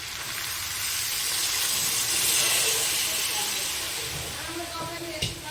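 Water poured into a pan of frying potatoes for a white potato curry, setting off a loud rushing steam hiss that swells, then settles toward a softer bubbling simmer with a small clink near the end.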